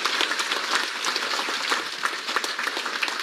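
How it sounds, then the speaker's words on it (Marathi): A crowd at a state-level Vanjari community convention in Thane breaks into sustained applause, dense and steady clapping from many hands continuing throughout. "एकदा जोरात चौल्यांदा टाळ्या वाजवा"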